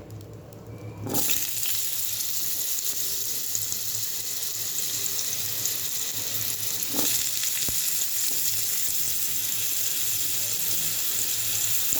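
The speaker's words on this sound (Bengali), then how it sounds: "প্রথমে আলুটা দেব, হালকা করে একটু ভেজে নেব" Potatoes dropped into hot oil, with a sudden burst of frying after a quiet start, then a steady loud sizzle that carries on alone, broken once by a brief clatter.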